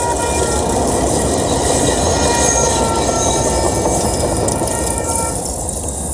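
A train passes close by, loud and continuous, with rumbling wagons and squealing wheels throughout.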